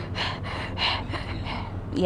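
Imitated heavy breathing from a singer, several loud, rapid gasping breaths in a regular panting rhythm, close up, ending in a short voiced sound.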